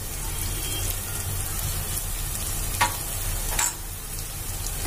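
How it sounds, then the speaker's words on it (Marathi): Spices sizzle and fry in hot oil for Punjabi masala rajma, a steady crackling hiss broken by a few brief stirring scrapes, with no one talking. "आणि हे छान असे आपल्याला तेलामध्ये परतून घ्यायचे आहेत मसाले"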